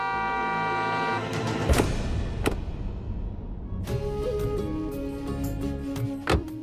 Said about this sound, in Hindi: लगता है कोई बाहर हॉर्न मार रहा है